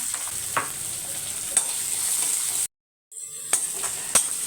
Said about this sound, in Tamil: இப்போ கடுகு பொரிஞ்சோன்னே கருவேப்பிலை ஒரே ஒரு பச்சை மிளகா ஒரே ஒரு பெரிய வெங்காயம்